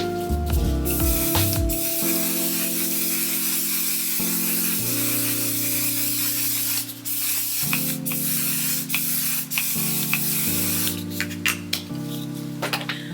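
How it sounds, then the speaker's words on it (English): A mattifying setting spray bottle hisses continuously for several seconds, a steady fine mist sprayed up close, with a faint background hum. "I go over it with the One Size mattifying waterproof setting spray"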